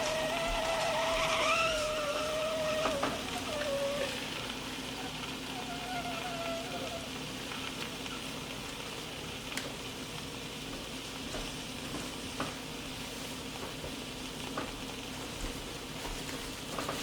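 A chaffle cooks inside a closed waffle maker, giving a steady, soft sizzling hiss that carries through the whole stretch, with a few thin whistling tones near the start.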